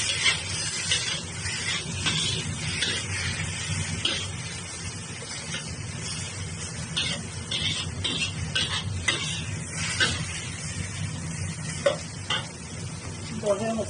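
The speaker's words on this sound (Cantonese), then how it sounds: "就啱先煎咗嗰個艾草同個蛋擠落去啦" Mugwort and egg fry in a pan, giving a steady, close sizzle and hiss with occasional stirring scrapes throughout.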